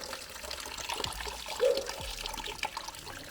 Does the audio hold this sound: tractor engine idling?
no